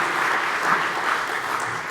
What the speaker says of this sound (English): Big round of applause, please, for the Senior Vice President of Google, David Drummond